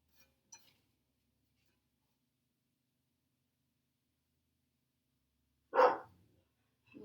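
A single dog bark rings out at a distance against near silence, preceded by a couple of faint ticks and followed by the start of another sound.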